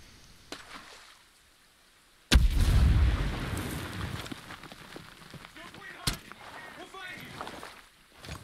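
A frag grenade goes off in the tactical shooter Ghost Recon Breakpoint as a sudden heavy blast with a rumbling tail that fades over several seconds, followed by a sharp crack and faint background noise.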